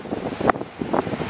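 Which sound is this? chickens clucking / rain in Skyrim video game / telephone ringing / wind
wind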